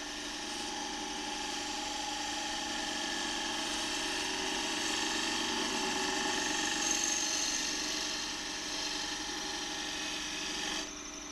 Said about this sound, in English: get behind the gouge and push the gouge around the work